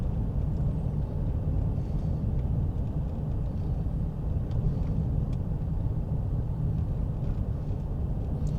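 A car rolls through a state park campground at Brantley Lake, giving a steady low engine and road rumble from inside the vehicle with faint light ticks on top, constant and moderately loud.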